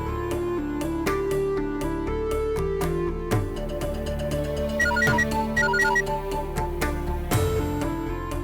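Mobile phone ringtone playing a repeating melodic tune, steady and clear for several seconds with no talk over it.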